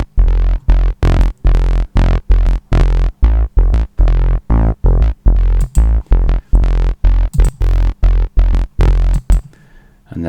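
A saturated synth runs through Echo Melt saturation into Logic's heavy bottom bass amp, pulsing loud and thick in steady repeated stabs across ten seconds, with a brief quieter tail at the end.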